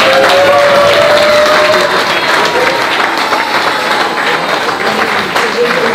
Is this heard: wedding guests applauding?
yes